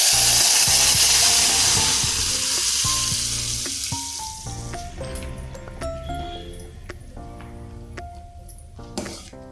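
Dal tipped into a pan of fried tomato mixture sizzles loudly at first, then settles into a steady crackle, with a few clinks and soft stirring knocks at close range.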